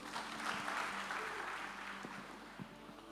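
A church congregation claps together during a sermon, a brief, fairly quiet burst of dense applause lasting about three seconds.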